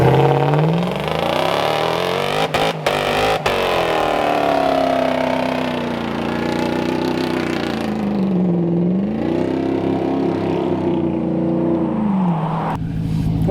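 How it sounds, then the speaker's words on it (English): A Hellcat-powered Jeep Gladiator engine revs hard and holds high during a burnout, pitch rising and falling with the throttle, loud and close throughout. "I've never really done like a real burnout."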